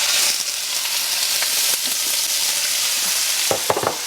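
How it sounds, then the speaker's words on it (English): Shrimp sizzle loudly in a preheated pan, a dense, steady hiss that holds throughout, with a few short clicks and scrapes near the end. "we're going to go ahead and dip in our shrimp into our already preheated pan"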